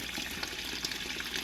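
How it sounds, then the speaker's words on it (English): A filter in a DIY quarantine aquarium blows water out into the tank, producing a continuous close splashing and bubbling rush of water at an even level with no talking. "I have my old filter in here blowing the water out"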